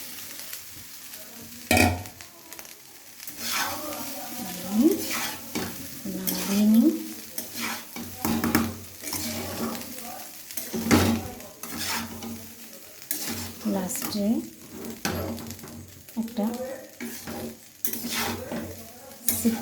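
Cooked rice with fried carrots and capsicum being stirred and tossed in a hot pan, a steady sizzle under repeated scraping strokes of a spatula against the metal, close and fairly loud.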